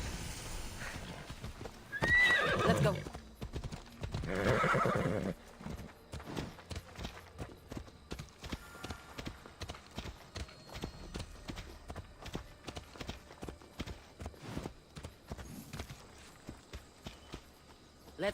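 A horse in the game Assassin's Creed Odyssey neighs twice loudly, then its hooves clip-clop at a steady walking rhythm for many seconds, with a brief spoken line from a player.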